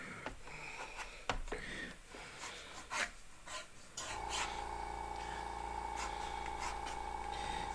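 Blade scraping and rasping through an airbrush stencil in a series of short, close cutting strokes, then giving way to a steady low hum for the remaining seconds.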